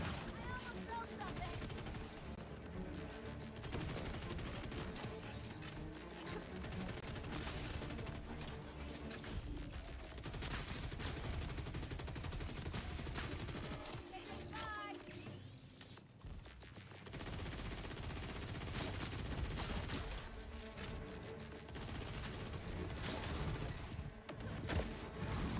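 Rapid automatic fire from a KSVB Vex weapon in a shooter video game, in long sustained loud bursts with brief pauses, mixed with crashes and game effects, under occasional talk from a player.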